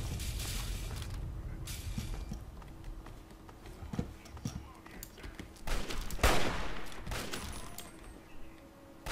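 Rapid bursts of gunfire from the Fallout 3 video game crack in uneven clusters over a steady background wash. A voice talks now and then between the shots.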